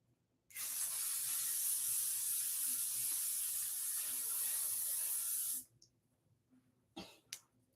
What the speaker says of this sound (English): I don't usually spray it this much